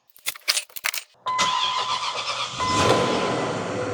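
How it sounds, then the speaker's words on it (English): Keys rattle and click, then a Range Rover engine cranks and catches, settling into a steady close idle that rises slightly as it runs. "I'll fire it up just to show you how good it runs."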